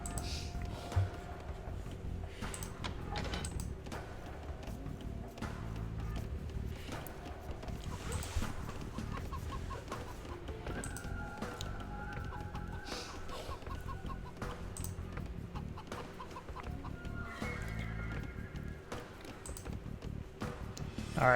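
Chickens cluck in the medieval strategy game Age of Empires II on a chicken map, with soft repeated clucks scattered among busy game sounds such as footsteps, chopping and clicks, all at a steady low level.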